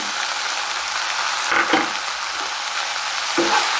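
Chilli masala and ground spices fry in a pan for pork gravy, giving a steady close sizzle with a few scraping stirs of a spoon against the pan.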